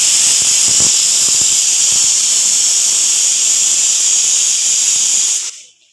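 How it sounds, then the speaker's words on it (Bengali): A pressure cooker whistle vents steam in a Kolkata home kitchen, a loud, steady high hiss holding for about five seconds before cutting off abruptly into silence. "তো সিটিটা পড়ছিল বলে কথাটা বন্ধ করি"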